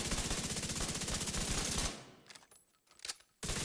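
Rapid automatic gunfire from a video game shooter, The Division 2, rattles loud and continuous for about two seconds, then breaks off into scattered clicks, impacts and a final sharp burst.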